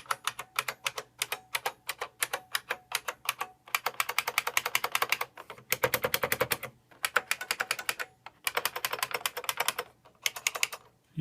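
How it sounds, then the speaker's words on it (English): Rapid clicky keystrokes on a Unicomp Classic 101-key buckling spring keyboard come in quick bursts of typing separated by short pauses, each key producing a sharp, crisp snap close to the listener. "I'll just give you some key hits here."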